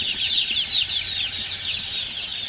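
A flock of about 300 newly delivered chicks at a poultry farm, cheeping continuously in a dense, high-pitched chorus, close and steady, over a low background hum.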